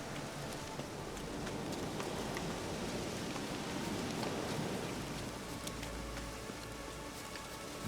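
Steady rain falls in The Witcher 3, a dense, even hiss of patter with scattered drop ticks and a low rumble underneath, continuous throughout with no talk.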